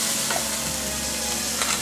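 Chopped onion cooks in a pan with a soft, even sizzle and a couple of faint stirring scrapes, brief and without talk.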